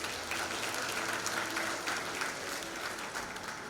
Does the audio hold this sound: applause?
yes